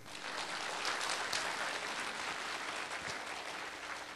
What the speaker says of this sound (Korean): 여기 한번 박수 한번 쳐줘요.